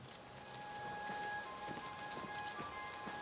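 Steady rain falls in the video game Oblivion Remastered, an even hiss of drops spread across the whole clip, with no voices over it.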